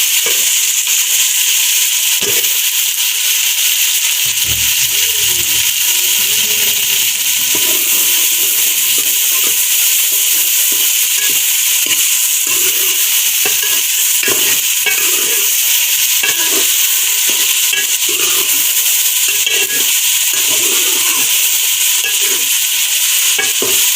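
Onions fry in a pan for a fish curry with a loud, continuous hissing sizzle, and a spoon stirs them with frequent scraping and clinking throughout.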